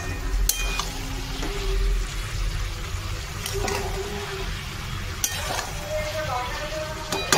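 Mixed vegetables cooking in a pan, a steady low sizzle with occasional scraping and clinking as they are stirred.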